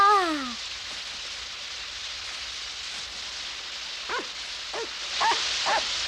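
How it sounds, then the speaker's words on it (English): Steady rain falls outdoors as a continuous hiss, with a few short dog barks breaking through near the end. "It's fun to be out in the rain."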